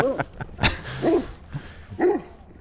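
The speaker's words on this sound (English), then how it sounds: "He's just barking." A dog barks and yips several times in short, sharp bursts, close and loud, with brief pauses between each bark.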